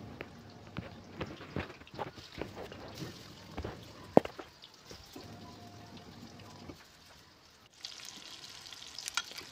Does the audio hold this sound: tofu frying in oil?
yes